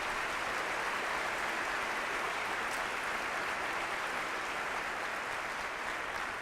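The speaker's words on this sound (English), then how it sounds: "Let's give them a round of applause and recognize this morning." An audience at a State of the District event applauds elected officials, a loud sustained wash of many hands clapping, dense and unbroken throughout, with no speech over it.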